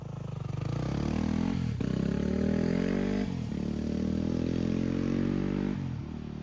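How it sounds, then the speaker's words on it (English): A warmed-up dirt bike engine runs close and loud, its pitch climbing in several pulls with abrupt drops between them as it revs, with a faint rattle over the steady buzz and no talking. "got the dirt bike boots back on, dirt bike's out and warmed up"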